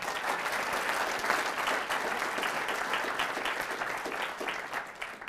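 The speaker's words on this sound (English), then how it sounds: "let's have a round of applause for YAF" A university audience at a Ben Shapiro discussion at Mizzou applauds Young America's Foundation, a broad, sustained wash of crowd clapping at an even level throughout.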